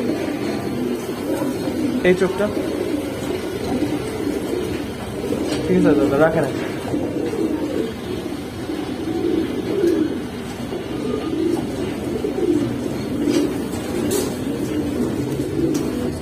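Gribaz and pangkhi pigeons coo in repeated low, throaty phrases through the whole stretch, steady and close, while someone talks over them at intervals.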